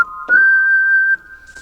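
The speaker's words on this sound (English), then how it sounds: "and it's a sound called whistle." A synthetic whistle patch on a Yamaha MODX keyboard sounds a sustained, pure whistle-like tone. It holds one steady pitch with a short breathy attack, then drops slightly in level as a second note follows.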